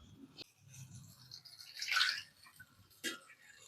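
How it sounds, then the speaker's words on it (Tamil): Water rinsed out of a mixer jar is poured into a cooking pan in a brief splashing burst, framed by a few faint clinks, quiet and close with no talking. "மிக்ஸி சாரை கழுவி தண்ணி கொஞ்சம் வச்சுருக்கேன், இதையும் ஆட் பண்ணிடலாம்."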